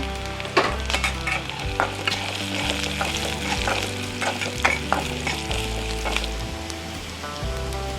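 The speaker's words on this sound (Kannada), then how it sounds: "ಈರುಳ್ಳಿ ಫ್ರೈ ಆಗೈತೆ. ಇವಾಗ ಗಸಗಸೆ ಚಕ್ಕೆ ಲವಂಗ ಹಾಕೊಂತೀನಿ" Onion frying in oil with poppy seeds, cinnamon and cloves for a village-style chicken sambar crackles loudly and steadily up close, crisp spits and stirring clicks scattered over a continuous sizzle.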